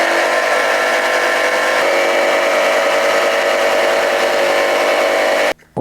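A power tool cuts steadily through a resin casting mold. The loud, continuous whine-and-grind keeps going without a break and stops abruptly just before the end.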